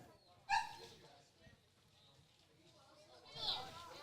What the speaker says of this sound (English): Somebody's puppy getting anxious down there